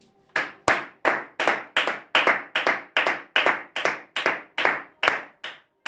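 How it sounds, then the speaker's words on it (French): Congregation at a church service applauding after a Bible reading, a steady run of about fourteen loud, evenly spaced bursts of clapping with no voices. "Pourrons-nous acclamer pour la lecture?"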